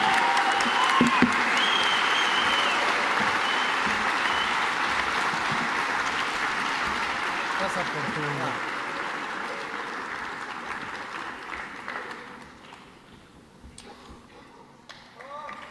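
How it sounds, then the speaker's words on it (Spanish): Sustained applause fills a creative conference hall after a speaker's address, loud and even at first, then gradually thinning and fading toward the end. "Un aplauso para Memo Barba, caray."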